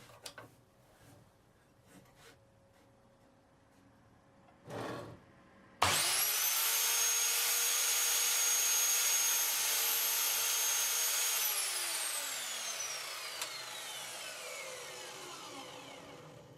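A cheap mitre saw cutting through wood: after a quiet stretch with a brief clunk, the motor roars up suddenly, the blade bites with a sustained loud whine for several seconds, then winds down gradually.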